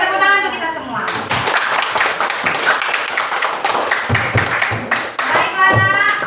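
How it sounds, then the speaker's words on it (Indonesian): Classroom applause from a group of students during a lesson on artificial intelligence: dense, steady clapping runs throughout, with voices talking over and between the claps. "tepuk tangan untuk kita semua."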